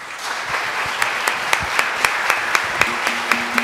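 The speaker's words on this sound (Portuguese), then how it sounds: "eu vou pedir a vocês uma salva de palmas para ela." An audience at a public session honoring capoeira practitioners in Niterói applauds, steady crowd clapping joined by a few sharp rhythmic claps in regular beats that cut through the wash.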